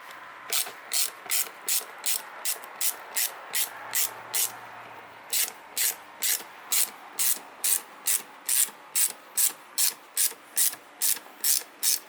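Ratchet wrench clicking steadily while loosening a 7 mm bolt on the air filter housing of a 2011 Opel Corsa D 1.3 CDTI, a long run of evenly spaced ticks with a short pause partway through, close and clear.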